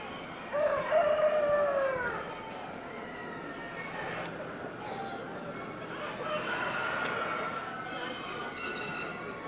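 A rooster crows once early on, loud and near, followed by a noisy yard with other fowl calling in the background, at a poultry show.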